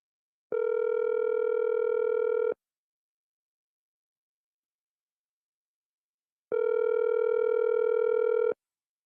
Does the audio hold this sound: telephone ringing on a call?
yes